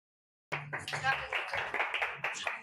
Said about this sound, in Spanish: Por favor, reciban con muchos aplausos a Julián Nazate.